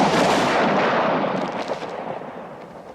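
A ceremonial firing party fires a rifle volley, a loud, dense burst of gunfire that rolls on and fades over three seconds with no voices.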